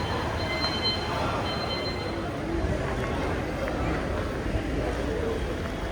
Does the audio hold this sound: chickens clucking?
no